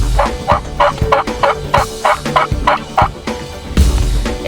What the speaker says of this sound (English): All right, that's an Eastern turkey.